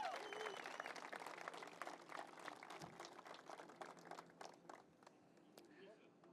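Audience applause at an outdoor opening celebration for the Gordie Howe International Bridge, a dense crowd clapping steadily that slowly thins and fades, with voices faintly mixed in.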